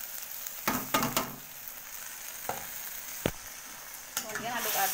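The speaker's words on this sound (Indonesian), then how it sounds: "masukin tempe yang udah digoreng" Already-fried tempe tossed into a pan for spicy orek tempe, giving a close sizzle with several sharp stirring and scraping hits; no talk.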